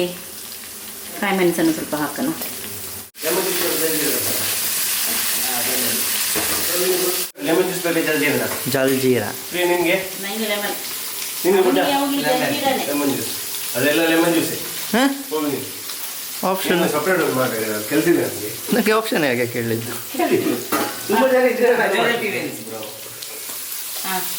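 Potatoes frying with cumin in oil give a continuous sizzle that stays underneath a person talking almost the whole time.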